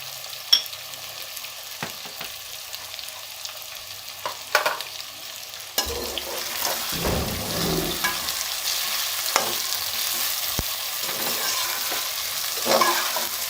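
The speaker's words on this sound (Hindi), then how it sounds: "तकरीबन इसको 10 मिनट तक फ्राई करेंगे आलूओं को।" Potatoes frying in oil with turmeric for aloo anday, a continuous close sizzle with scattered clinks and scrapes of stirring, growing busier midway, with no voices.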